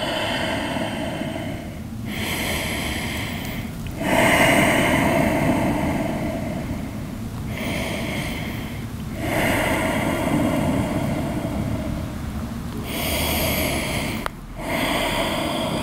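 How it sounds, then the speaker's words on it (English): Slow deep breathing during a yoga stretch: long, loud, airy inhales and exhales alternating in a steady rhythm, close up, with no speech. "Deep inhales, long exhales"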